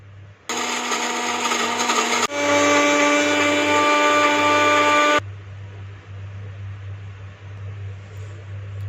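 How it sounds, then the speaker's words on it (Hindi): A high-speed electric grinder whirs loudly as it pulverizes pistachios into powder, running in two strong bursts with a jump in pitch before cutting off, leaving a low hum. "इनको भी हाई स्पीड पे ग्राइंड कर लेंगे।"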